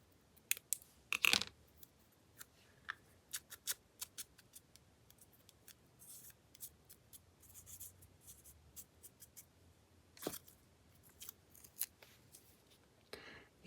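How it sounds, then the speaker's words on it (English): Paper is cut with scissors in a few quiet, scattered snips and rustles, close by and faint, with short gaps of near silence between the sounds. "I'm gonna snip it."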